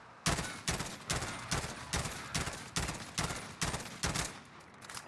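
An M16 tactical rifle firing in Call of Duty Warzone (Cold War weapon) during a 15-meter recoil test: a steady series of about ten loud, evenly spaced three-round bursts, close and dominant.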